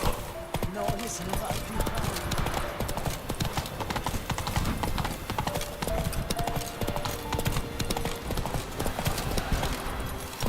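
Horse hooves gallop in The Witcher 3, a fast, continuous clip-clop rhythm that pounds close and loud for the whole stretch, with faint tack and movement noise layered in.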